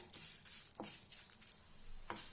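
Coriander seeds and urad dal dry-roasting in a pan for a ridge gourd and tomato chutney, giving a faint, steady sizzle and hiss broken by a few soft scrapes of stirring, quiet and close with no talking.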